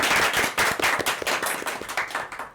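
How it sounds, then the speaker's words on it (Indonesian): An audience claps steadily and loudly for a couple of seconds at a school event, with dense overlapping hand claps and no voices. "Beri tepuk tangan yang meriah."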